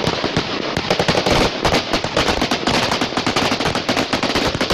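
Sustained automatic gunfire from a police ambush in Mexico, caught on a phone: dense, unbroken bursts of loud cracking shots rattling continuously with no pauses and no voices.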